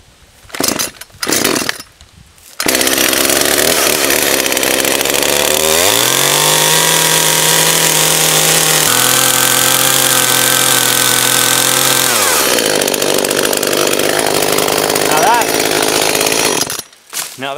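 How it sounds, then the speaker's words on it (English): A chainsaw roars steadily for a long stretch, and its pitch drops and labours as it cuts a kerf into wood before winding back up. "chainsaw. So we're gonna get this kerf carved out of here"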